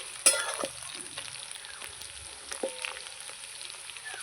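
Potatoes and onions frying in a pan, a soft steady sizzle with a couple of sharp clatters and stirring scrapes early on, close and moderately quiet, with no speech.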